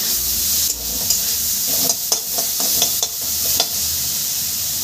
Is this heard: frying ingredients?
yes